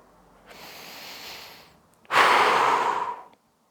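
Two breaths during a shoulder and upper back stretching routine: a soft, longer inhale followed after a brief gap by a louder, breathy exhale lasting over a second, close to the mic with no talk.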